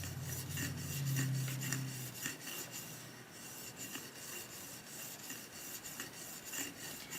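A worn Joewell hair shear is sharpened on a stone under heavy pressure, giving a steady rasping scrape with repeated light knocks as the hilt taps the stone's side, close and faint, with no talking.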